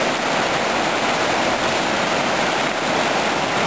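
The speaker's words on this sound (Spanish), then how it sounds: "Este es el río Jequetepeque" The Jequetepeque river at Chilete rushes in a loud, steady, broadband roar of flowing water that fills the whole stretch without a break, close by and with no voices.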